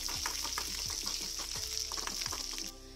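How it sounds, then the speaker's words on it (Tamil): Onions fry in a pan with a steady close sizzle, broken by regular scraping stirs, for a soft murmur of oil and moisture until the hiss drops off near the end. "வெங்காயம் வந்து நல்லா வதங்கிடுச்சு."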